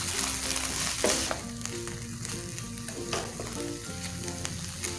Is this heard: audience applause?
no